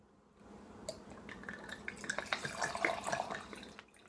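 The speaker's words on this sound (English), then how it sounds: "did you hear it gurgling in there? Not the sloshing part, but the actual bubbles gurgling, going glug, glug, glug" Wine pours through a Cucina Casa 3-in-1 wine chiller with an aerator spout, a soft, irregular run of bubbly gurgles and drips that builds and then fades, close and fairly quiet.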